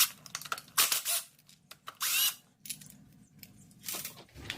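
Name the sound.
removing 10mm oil pan bolts on a Honda Prelude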